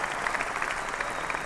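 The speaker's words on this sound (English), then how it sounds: "Big round of applause for everybody tuning in on our CBS," A steady wash of audience applause on a sports talk broadcast, even and sustained for its brief length at a moderate level.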